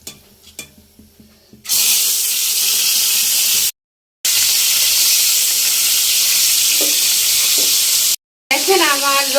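Pieces of meat for a roast frying in a pan, a loud close hiss that starts after a few light knocks, cuts out twice briefly, with a voice heard faintly near the end.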